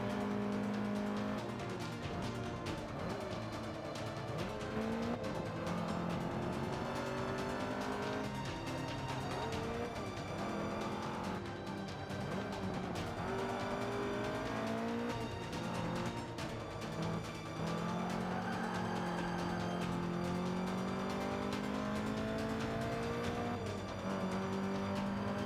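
Race cars roar through a lap in the Forza 5 racing video game, engines revving up and down in continuous sweeping pitch changes with occasional tire noise and no talk over them.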